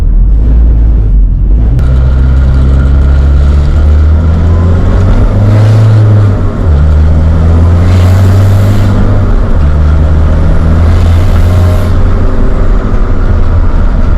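A Nissan Navara pickup with a YD25 diesel engine and compound turbo setup drives along at half throttle, its loud, steady engine rumble and boost whine filling the cabin as it pulls through the revs.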